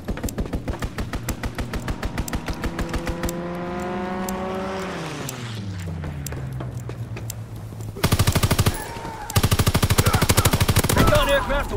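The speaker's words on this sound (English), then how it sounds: "Strafing run inbound." Rapid automatic gunfire from an aircraft strafing run in a video game, loud bursts of rhythmic shots broken by a rising and falling engine drone, then heavy firing resuming near the end.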